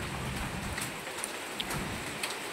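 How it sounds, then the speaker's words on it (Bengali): Rain falls steadily by a roadside, a dense even hiss of drops with a few sharper patters standing out, close and unbroken, with no voices. "বৃষ্টি হচ্ছে"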